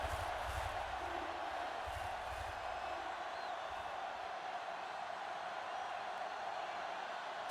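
A stadium crowd stands through a football game, making a dense, steady roar of voices that holds at an even loudness from start to finish, with no distinct words.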